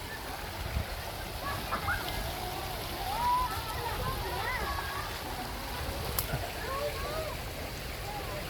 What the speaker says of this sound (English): That pretty waterfall right there coming down.